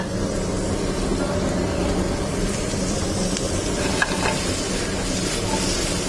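Food sizzles and crackles steadily in a pan of olive oil and butter, a loud continuous frying hiss with one sharp tap partway through.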